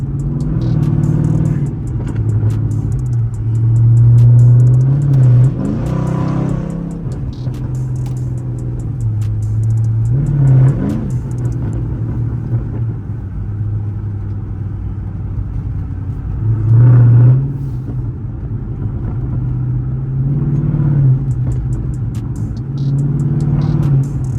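A Chrysler 300C AWD with a Hemi V8 rumbles deeply while driven at night, its steady low drone swelling in several throaty revs and acceleration pulls heard from inside the car.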